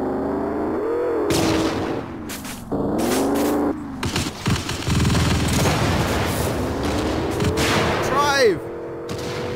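Gunfire in the vehicular combat game Chaos on Wheels, loud, dense bursts of shots and booms over engine-like drones, with a whooshing sweep near the end.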